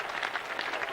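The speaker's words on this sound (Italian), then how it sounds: "che salutiamo con un applauso" Brief burst of distant stadium applause at a 1988 athletics club championship in Mogliano Veneto, a soft wash of clapping greeting a team as it leaves the field.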